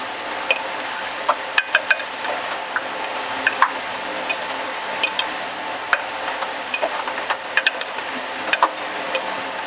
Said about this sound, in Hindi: चिकन को हम थोड़ा सा भून लेंगे पहले